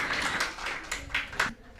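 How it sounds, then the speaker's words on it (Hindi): A crowd at a Diwali celebration claps briefly, a soft patter of scattered applause that rises in a few small bursts and then thins out. "जोरदार तालियां"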